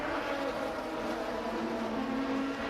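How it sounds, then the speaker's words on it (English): Honda Integra DC5 touring race car at Sepang circuit, its engine a steady, loud droning hum with a sustained harmonic tone held throughout, no distinct speech over it. "back comes Carlo Mack, using the pace of the Integra DC5 down the back straight"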